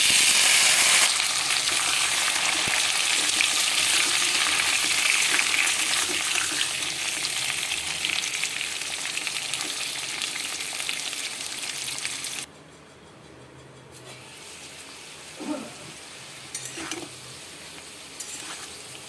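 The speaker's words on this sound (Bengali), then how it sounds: "এবার আমি পেঁপের টুকরোগুলো দিয়ে ভাজবো।" Raw papaya pieces frying in hot mustard oil, a loud steady sizzle for about twelve seconds that then drops quieter, with a few clinks and scrapes of stirring near the end.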